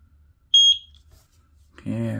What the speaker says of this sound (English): Okay, I heard the beep.